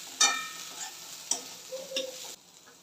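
Bitter gourd being sautéed and stirred in a pan, with a few sharp scraping clinks of a spatula against the metal over a soft, low sizzle in a quiet kitchen.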